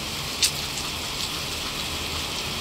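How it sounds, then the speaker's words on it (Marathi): Steady rain falls in a broad, even wash outdoors at a wedding, with one brief sharp knock early on and no talking. "आता नेमकं लग्नाच्या वेळेस पाऊस आहे"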